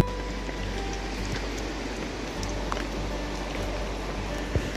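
Steady rain falling at a coastal fort above a Goa beach during the monsoon, a continuous close hiss with a few scattered drop ticks, no voices.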